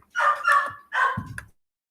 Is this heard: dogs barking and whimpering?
yes